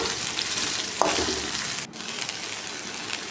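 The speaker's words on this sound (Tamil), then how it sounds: "நல்லா வதக்கி விட்டுக்கலாம்." Okra, a quarter kilo of lady's finger, sautéing in a pan, giving a steady dense sizzle close up with a light stirring scrape and a brief break partway through, no talking.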